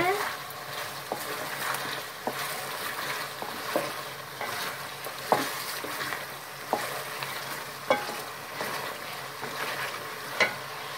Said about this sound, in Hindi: अब थोड़ा मिक्स कर लेंगे चिकन के अंदर अच्छे से.